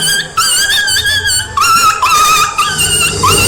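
A male performer in an Odia jatra stage play imitates a dog with his voice, a quick series of loud whining, yelping cries close to the microphone.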